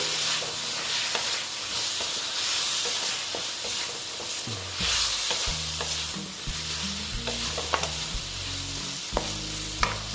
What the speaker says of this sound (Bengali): আমি এটা ভালো মতো কষিয়ে নেব মশলাটাকে